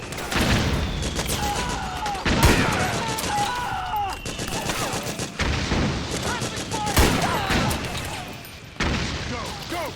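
Battle gunfire in Metal Gear Solid 4: Guns of the Patriots crackles in dense, repeated volleys with heavy booms, while soldiers shout orders over the shooting.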